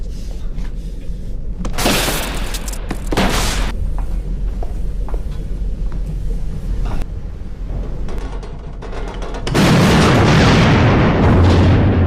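Explosion aboard the ship Britannic in a 2000 TV film, dramatic booms and bursts with a heavy roaring blast near the end, loud and close with a low rumbling tail.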